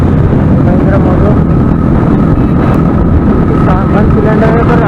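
A Mahindra Mojo single-cylinder motorcycle engine thrums steadily and loudly nearby, with throttle swells and someone talking over it at an outdoor bike gathering.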